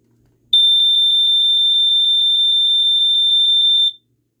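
A Sears Early One 246.57313 smoke detector horn sounds a loud, piercing, very fast pulsing beep, steady for about three and a half seconds against near silence before cutting off.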